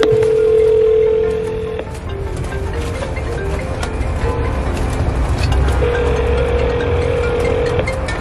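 A phone rings while being called, with a steady warbling tone that sounds twice, at the start and again near the end, over a constant background rumble like a moving car.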